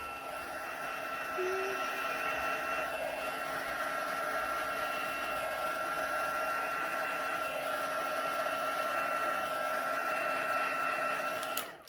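Handheld heat tool blowing hot air over a stamped card to dry the ink, a loud, steady whirring drone with a whining tone that runs nearly twelve seconds and cuts off at the end.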